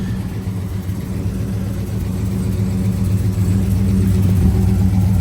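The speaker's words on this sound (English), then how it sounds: "walk around video of the Chevelle running" A matching-numbers Chevrolet Chevelle runs with a steady, deep engine rumble close by, holding an even idle that swells slightly toward the end, with no talking.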